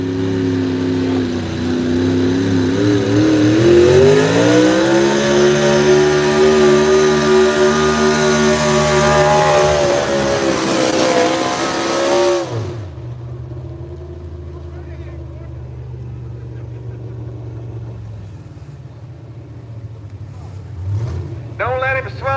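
A racing engine revs loud and close at a motorsport showdown, rising and holding a strained harmonic whine for about twelve seconds, then dropping to a low idle rumble with a brief blip near the end.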